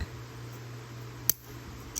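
A single sharp snip of scissors cutting a plastic part from a 1:72 scale F-84G Thunderjet model kit sprue, one brief click in an otherwise quiet room.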